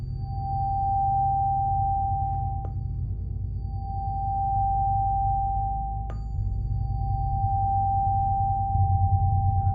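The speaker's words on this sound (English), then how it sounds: "I sometimes like to hold a tuning fork by an ear to someone" A single Rife Remedy tuning fork rings a pure, steady tone that sustains evenly, with two faint taps, over a low background hum.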